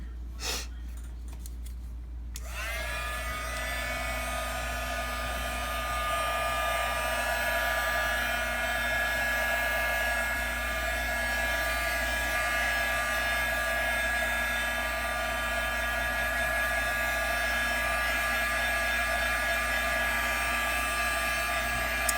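A hair dryer blows steadily on a wet painting, a loud continuous whirring hum that starts abruptly after a brief quiet moment and runs unbroken to the end.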